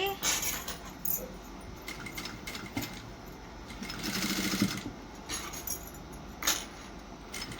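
A sewing machine stitches a plain blouse in short, quiet runs of whirring, broken by pauses and small metallic clinks.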